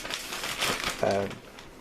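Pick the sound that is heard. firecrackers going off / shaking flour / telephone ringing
shaking flour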